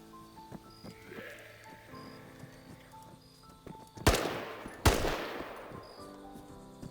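Two sharp rifle shots, spaced under a second apart, crack out in the ArmA 3 video game during a zombie survival mission in Chernarus, standing out loudly over quiet ambient game sound.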